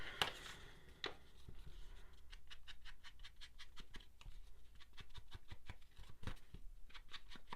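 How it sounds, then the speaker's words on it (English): Large scissors snip through paper tags in a quick run of crisp, faint repeated cuts, close by and steady in rhythm, with occasional louder paper rustles. "but when you're cutting out tags, the only way to go is the big ones, I think."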